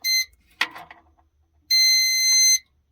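An electronic wall safe keypad gives a short beep, then a keypress-like click, then a longer steady high-pitched beep lasting close to a second, in a quiet room.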